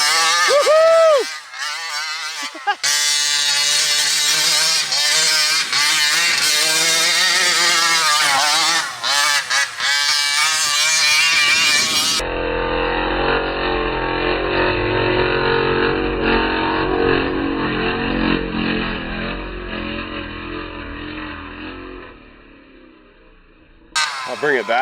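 A Primal RC Raminator monster truck's gas engine roars and revs nearby over bumpy ground, loud and continuous through the second half, after earlier excited shouting and cheering from people close by.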